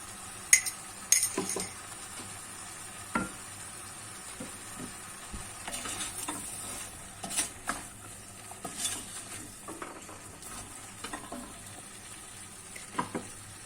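Salt and chili flakes sauté in olive oil with a soft, low sizzle close by, while scattered clinks and scrapes of a utensil against the pan come at irregular intervals and no one speaks.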